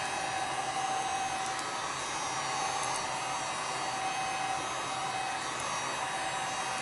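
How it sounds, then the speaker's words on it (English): A Chinese heat shrink gun blows hot air in a steady, loud, unbroken hiss with a faint whine, running without pause and with no talk over it. "This touchy Chinese heat shrink gun."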